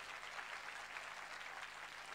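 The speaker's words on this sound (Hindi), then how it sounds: "तालियां बजाइए इनके लिए" Steady, dense applause from a church sermon audience, a continuous wash of clapping with no voices over it.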